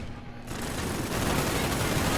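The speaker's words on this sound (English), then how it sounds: "You have to waste almost 200 clips on them with this LMG" Sustained LMG fire in a video game survival mode, a dense, loud, continuous roar of rapid shots that swells and holds for the full stretch without any talk.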